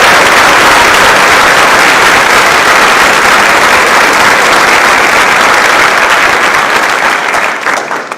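A large audience in a hall claps steadily and loudly at a high school class night awards ceremony, a dense sustained applause that tapers slightly at the end.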